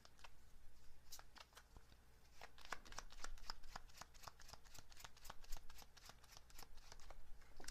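Tarot cards being handled and shuffled, a steady run of quiet, crisp card flicks and slides close by, with soft rustling between the strokes and no talking.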